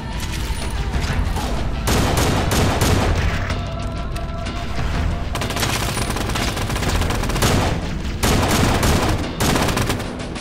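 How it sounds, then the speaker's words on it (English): Sustained bursts of assault rifle fire in the Halo video game, dense and loud across the whole stretch, with brief lulls between volleys and other combat noise mixed in. "I love the AR. Sounds so good."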